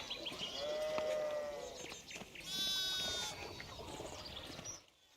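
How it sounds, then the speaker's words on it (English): Sheep bleating in the medieval video game Pentiment, two or three wavering bleats, one low and long, one higher and brighter, over soft rustling ambience before the sound cuts off. "More sheep in the way."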